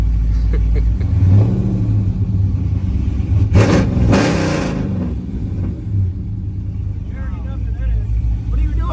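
A Dodge Scat Pack car engine revs with a deep, steady rumble and a loud surge in the middle, close by, while people talk and shout over it.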